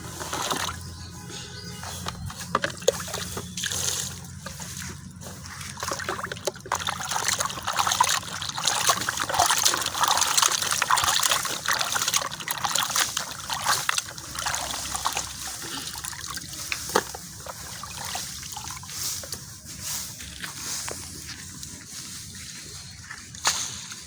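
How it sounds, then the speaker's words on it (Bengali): Water trickles and sloshes steadily while rohu fish is rinsed with salt, a continuous splashing wash sound up close with no voices. "তো এই যে লবণ দিয়ে আমি আরেকবার ধুয়ে নেব"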